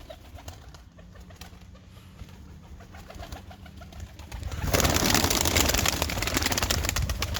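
Kirkuk pigeons with feathered feet coo softly in a loft, low repeated calls under a constant background hum that turns into a louder broadband rush partway through.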